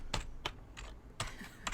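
One-handed typing on a computer keyboard: five separate, crisp keystrokes spaced unevenly and close by, with no talking.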